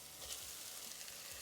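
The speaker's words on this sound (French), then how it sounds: "vous allez verser votre pâte de gingembre et d'ail. Et à ce stade-là, vous allez le faire cuire à feu moyen." Ginger and garlic paste fries with onions in a pan over medium heat, a faint, continuous sizzle with soft crackles and no talking.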